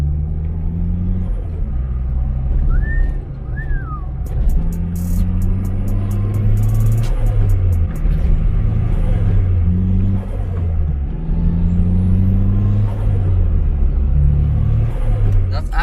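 A turbocharged Toyota Starlet cruises through a village, its engine a loud, close, droning rumble that rises and falls through the gears, with a couple of brief chirps and ticks over it.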